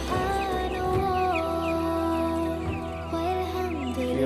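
Twelve-day-old chickens on a poultry farm make frequent high chirps and clucks, scattered throughout over a steady, tonal background hum.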